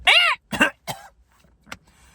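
A few sharp throat-clearing coughs close up, three quick rasping bursts followed by a short fainter one, then near silence.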